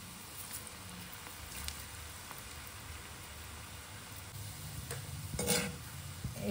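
Bajji frying in hot oil, a soft steady sizzle with occasional stirring and scraping, faint and close, with no talking.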